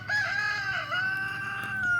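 A rooster crows close by in one loud, sustained call lasting about two seconds.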